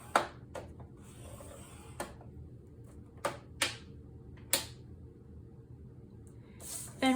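Cardstock being scored on a scoring board: a few sharp, separate clicks and scrapes of the tool on the board, spaced out over quiet, close and fairly faint, with no voice.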